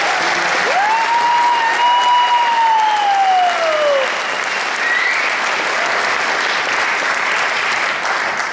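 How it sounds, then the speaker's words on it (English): Sustained audience applause for veterans at a comedy show in a small-town theater: dense, steady clapping filling the room from start to finish, with a brief rising whistle cutting through near the beginning. "Round of applause for the veterans"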